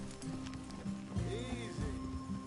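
Horse hooves clip-clopping in the open-world western game Red Dead Redemption 2, with steady hoof thuds close by as horses are brought to a halt, heard alongside low speech and ambient background sound.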